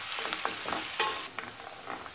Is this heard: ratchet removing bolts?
no